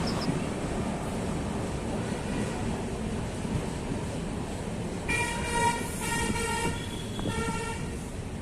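Gorakhpur Express train pulling into Sidhauli railway station, a steady rumble of the moving train with a loud, close horn toot sounding in stacked tones over its final seconds.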